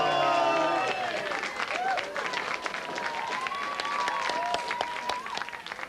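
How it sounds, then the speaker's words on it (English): A comedy club crowd in Liverpool applauds and cheers to welcome a comedian on stage, loud sustained clapping with whoops and babble throughout. "Round of applause, welcome on, Benny the Ball!"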